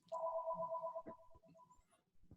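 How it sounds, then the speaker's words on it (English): Quiet electronic ringing of a telephone in the background, a steady two-note warble that breaks into short pulses, faint and distant, with soft low thumps alongside. "I am so sorry about the phone ringing in the background"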